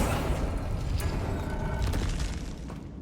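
A spell cast in the Hogwarts Legacy video game gives a dense, continuous rush of magical whooshing and crackling effects that hold at a steady, fairly loud level for about three seconds.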